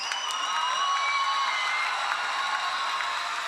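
Applause and cheering from a church youth congregation welcoming a pastor, a dense continuous wash of clapping with crowd noise, moderately loud and even throughout.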